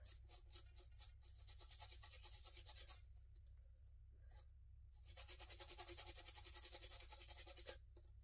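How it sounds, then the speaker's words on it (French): A small toothbrush scrubs a rubber scrapbooking stamp in rapid, close, rhythmic scratchy strokes that come in bursts with short pauses between them. "Et là, je fais avec ma petite brosse à dents."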